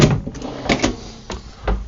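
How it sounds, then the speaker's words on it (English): Full-length drawers in a 2021 Renegade Valencia 35MB motorhome sliding and shutting, several quick thuds and knocks close by in a short sequence. "Pull these drawers out. They're all full-length drawers"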